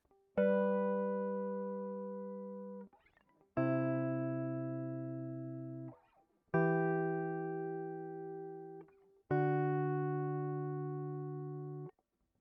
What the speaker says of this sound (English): This is the sound of the guitar clean.